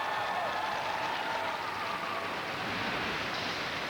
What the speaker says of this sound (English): Sympathetic cheer, one of support from this crowd, but certainly not a victorious cheer.